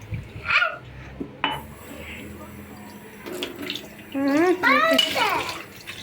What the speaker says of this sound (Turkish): Bulaşıkları yıkıyoruz